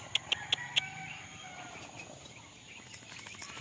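A few sharp clucks from chickens close by at the start, then fainter scattered clucking over a low background.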